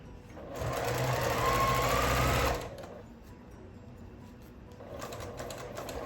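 A sewing machine stitching a zipper onto a boxy bag runs in a quick burst for a couple of seconds, then stops, followed by a second, softer start.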